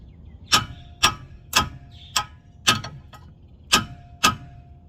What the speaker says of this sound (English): I don't have it, so I want to beat it with a hammer.